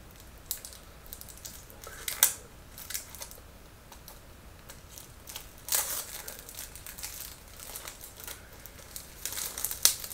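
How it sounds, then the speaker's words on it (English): Plastic wrap is peeled and torn off a LEGO box, an irregular run of soft crinkling and crackling with a few sharper bursts, close and fairly quiet, with no talking. "Plastic is always hard to get off sometimes, but so I got the plastic off"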